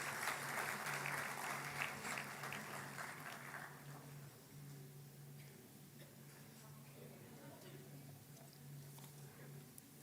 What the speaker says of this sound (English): Please put your hands together in applause for them.